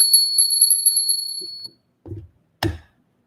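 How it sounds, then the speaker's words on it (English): A small bell rings with a bright, high ringing tone that decays over about a second and a half, followed by a couple of soft knocks and a sharp clack. "we're going to ring the bell over each one"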